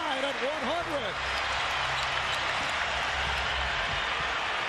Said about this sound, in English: And this crowd is now very much into it.